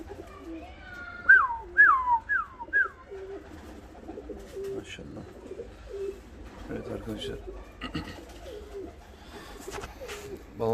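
Fancy pigeons coo and call in short bursts near the start, then quieter cooing and rustling continue with someone talking over them.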